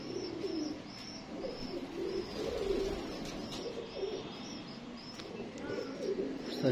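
Breeder pigeons coo in repeated soft, throaty phrases, several birds close by, with faint chirps and background murmur filling the space between calls.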